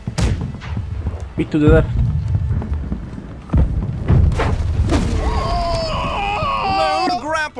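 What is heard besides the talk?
ship cannon fire in the video game Blackwake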